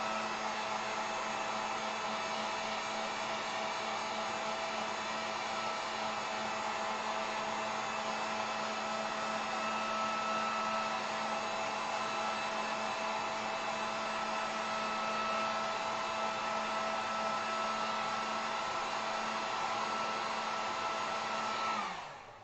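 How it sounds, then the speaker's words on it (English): A hair dryer or heat gun blows steadily for over twenty seconds to dry acrylic paint dots on a wooden sign, a close, even whooshing hum that cuts off at the end. "blow dry or heat gun these dots so we don't mess up"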